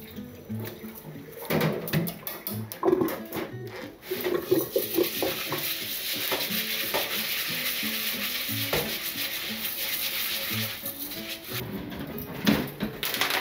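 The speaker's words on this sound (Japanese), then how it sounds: "ザルで蓋をして水を切ると米がこぼれない。" Rinsed rice being drained through a colander used as a lid, with water swishing and pouring, grains shifting against metal, and some scraping and clatter close by, steady throughout with a few sharper knocks.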